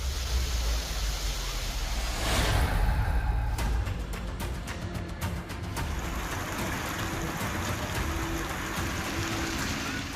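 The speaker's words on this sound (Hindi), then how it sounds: "पालीताना में भारी बारिश के कारण सड़कों पर पानी भर गया।" Heavy monsoon rain flooding streets in Palitana, a steady dense hiss of downpour with water rushing throughout, plus a brief louder surge early on.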